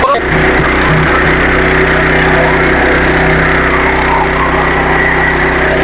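A stubble mower running at full throttle with its engine drone and whirring cutters, loud, steady and close throughout, with a faint voice underneath.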